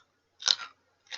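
Crunchy chewing of a citrusy British sweet, close up: two distinct crisp crunches separated by silence.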